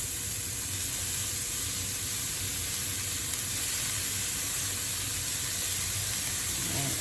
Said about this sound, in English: add the ground beef in there